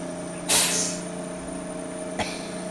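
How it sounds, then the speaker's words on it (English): Two sharp hisses of old truck air brakes in Farming Simulator 19, a loud burst early then a shorter release later, over a steady engine hum. "The old air brakes, they're quite loud"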